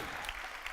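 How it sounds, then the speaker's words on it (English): A technology conference audience applauds in a brief, steady burst of clapping heard from a distance. "I think that deserves a round of applause"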